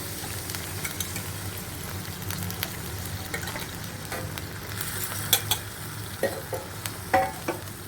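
Spine gourd frying in a pan while being stirred: a steady sizzle runs throughout, with scraping stir strokes and a few sharp clinks of the utensil against the pan, close up and without voices.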